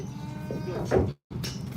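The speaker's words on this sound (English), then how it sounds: "Oh, the cow just came through." A cow on a ranch gives a loud, close moo that swells and breaks off abruptly, with low rhythmic rumbling and background noise around it.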